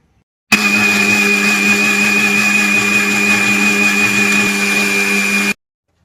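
A mixer grinder blends pumpkin and betel leaf juice with a loud, steady motor whine and hum that holds constant for about five seconds, starting and stopping abruptly, with no talking.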